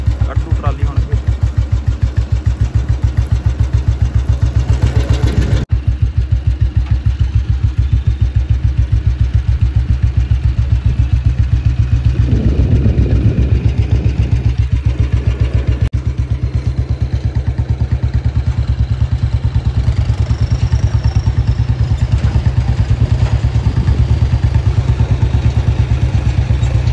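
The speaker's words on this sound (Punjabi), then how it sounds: "ਉਹ ਟਰੈਕਟਰ ਬੰਦ ਨਹੀਂ ਕਰਦਾ, ਸਟਾਰਟ ਹੀ ਆ ਕਹਿੰਦਾ" A tractor engine left idling after unloading a trolley with a loader, running steadily and close throughout with a low continuous rumble, while people talk over it.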